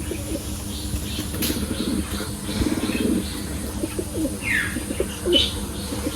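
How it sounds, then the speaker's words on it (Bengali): Pigeons on a pigeon farm coo in low, repeated throaty calls, with a brief flutter of wings and a few sharp chirps over a faint background. "এই কবুতরটাও খাবার খেতে চলে আসে"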